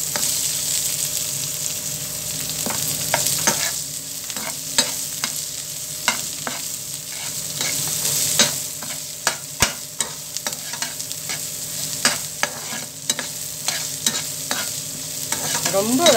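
Small shallots fry in oil for cabbage poriyal, a bright crackling sizzle punctuated by repeated sharp spatula taps and scrapes against the pan, close and fairly loud.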